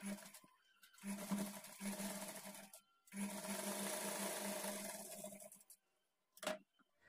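Close, steady whirring of a sewing machine stitching a blouse comes in two long runs split by a brief pause, then cuts off, followed by a short burst of handling noise.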